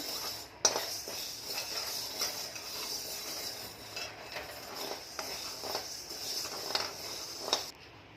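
Grains dry-roasting in a pan for thalipeeth bhajani flour, with soft, steady scraping and occasional light clinks of a spoon against the pan, close but fairly quiet.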